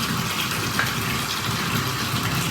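Hot water gushes steadily into a tub being filled to wash sweat-stained hats, a continuous broad rushing pour close by with no talking.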